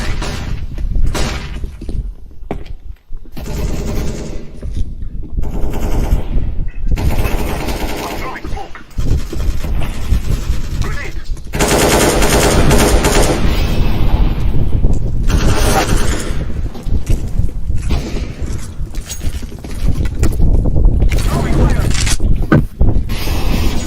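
Automatic AK rifle gunfire in a video game, sustained bursts of rapid shots running almost continuously and loud, with voices talking over parts of it.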